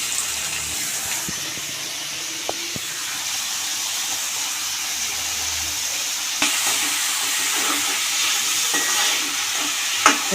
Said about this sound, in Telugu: నూనె వరిగిపోయింది నూనెలో అయితే వేసుకుంటున్నాను